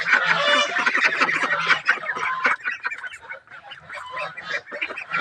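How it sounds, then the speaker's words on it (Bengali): Local domestic ducks on a farm give a continuous flurry of raspy calls, many birds overlapping in a busy, close chorus with uneven pulses and no talking. "এই যে আমাদের কিছু দেশি হাঁস আছে,"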